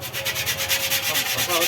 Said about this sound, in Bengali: সব ঘষা হচ্ছে